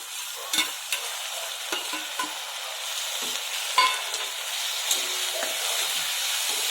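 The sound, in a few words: onions and tomatoes sautéing in pan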